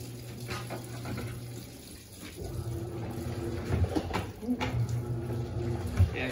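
Panasonic 14 kg NA-F140B6W washing machine filling with water during its pre-wash, a steady rushing inflow close by with faint speech partly over it.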